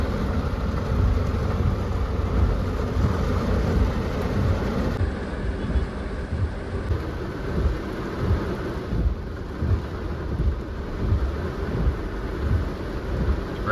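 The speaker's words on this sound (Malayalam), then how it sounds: "നല്ല മഴയും കൂടെ ഇപ്പം പെയ്തിട്ടുണ്ട്." Heavy rain pours down during a traffic jam, making a dense, continuous roar over a low rumble of idling vehicles. The sound stays loud and steady throughout, with no voices.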